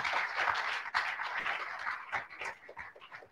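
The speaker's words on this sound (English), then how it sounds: "if we can have one more round of applause for our wonderful influencer, Fae." Audience applause after a talk on protecting the Sargasso Sea in Bermuda, a lively round of clapping that swells early and gradually thins out toward the end.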